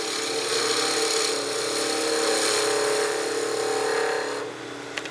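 A skew-like tool makes a planing cut on a wooden whistle spinning on a wood lathe: a continuous steady shaving hiss with motor hum, fading near the end as the cut stops.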